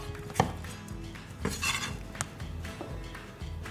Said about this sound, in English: Straight down the middle on the cucumbers, and then just nice little diagonal slices on it.